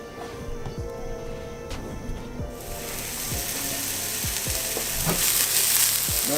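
Onions frying in a little oil in a pan, a continuous sizzle that grows louder and brighter midway, with scattered scraping clicks of stirring and no talk.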